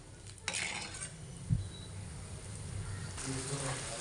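A pot of Tamil curry leaf thokku bubbles steadily with a soft, continuous simmer, broken by a few scraping stirs and a light clink of a utensil against the pan.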